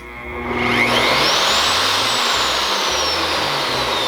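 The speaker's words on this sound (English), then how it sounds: "Let me show you up close about how soft and easy this started up." A WEN RT6033 plunge router spins up from rest, its whine sweeping sharply upward over about a second, then running as a loud, steady high-pitched roar close to the listener, with no speech.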